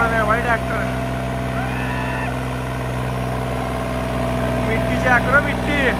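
A New Holland 5620 tractor engine runs at a steady, loud drone in a field while people talk and shout over it.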